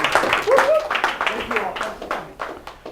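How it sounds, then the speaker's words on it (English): Audience applause at a final judgment recovery class, scattered clapping that thins out toward the end, with a voice speaking over it. "Can we give Rich a round of applause?"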